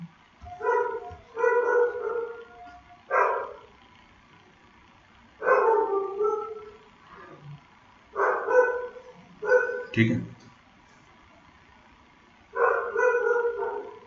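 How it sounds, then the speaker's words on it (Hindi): A dog barks in repeated bursts in the background of a maths lecture. The barks are clear and fairly close, spread across the whole stretch, and a voice speaks briefly between them. "हो सकता है आपको कुत्ते के भौंकने की आवाज आ रही हो।"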